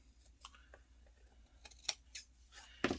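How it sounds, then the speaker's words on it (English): Scissors snip through paper in several short, crisp cuts spaced irregularly, close by and fairly quiet, with light rustling between them, while cutting out a quilt-style card. "I just naturally want to reach for these scissors all the time"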